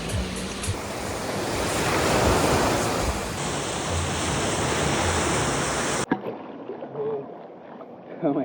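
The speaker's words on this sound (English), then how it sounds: "I'm just like standing right on the beach" Waves washing onto a beach in the Gili Islands: a steady, loud surf hiss that swells and recedes. It drops off suddenly near the end, leaving faint ambient sound.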